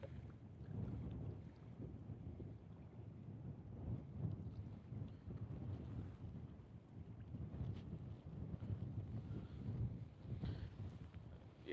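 Wind sweeps over open water on a fishing outing, a steady low blustery rumble with gusts against the microphone that lasts the whole time.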